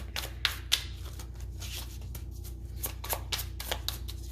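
Tarot cards shuffled by hand close up, with repeated riffling bursts and sharp card snaps over a low steady hum.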